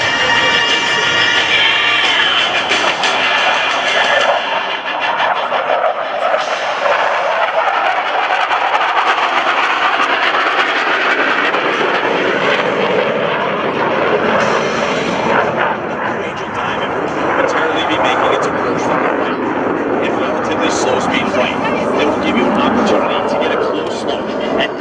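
US Navy Blue Angels jets fly the opposing 360 pass at a 2012 joint services open house, a loud, sustained roar that swells and shifts as the aircraft pass overhead.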